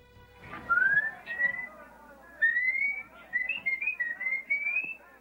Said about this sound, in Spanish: Otro de los lenguajes de la película fueron los silbiditos amorosos